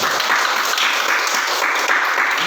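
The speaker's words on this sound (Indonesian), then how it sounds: "beri aplaus dulu" A classroom audience claps together in sustained, dense applause during a lesson, steady and loud throughout, with no voices.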